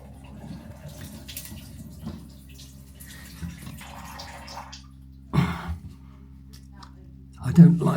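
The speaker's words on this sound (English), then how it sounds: "I don't like to put too much water in the cistern" A toilet cistern slowly refills after the water supply is turned back on during a DIY comfort-height toilet replacement. Faint trickling and dripping run under a steady hum, broken by two brief, louder splashy bursts near the middle and end.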